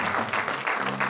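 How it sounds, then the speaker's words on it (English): A church congregation gives a hand clap of praise: dense, continuous applause from many people in a hall, steady and fairly loud across the whole moment. "Give the Lord a hand clap of praise."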